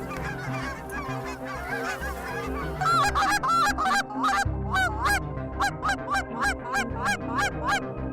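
Geese honking repeatedly overhead as they approach a decoy spread during a hunt, a chorus of loud, close calls growing more insistent, with no talk.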